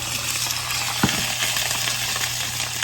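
Tilapia fillets frying in a pan on medium heat, a steady, loud sizzle with a low hum beneath and a single clunk early on.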